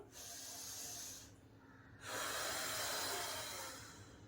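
Slow, steady exhalations from a woman doing a pillow-supported floor exercise for the belly and arms: a long breathy hiss, a short pause, then a louder, longer outbreath that fades gradually, close to the microphone.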